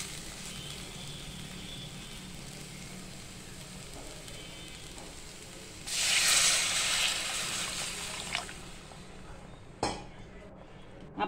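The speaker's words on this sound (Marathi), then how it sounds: "ह्याच्यामध्ये मी आता गरम पाणी घालते." Hot water pours into a pan of fried masala for a Malvani bangda (mackerel) fish curry, a sudden loud hissing sizzle midway that fades into bubbling, followed by a metal clink, after quieter kitchen background.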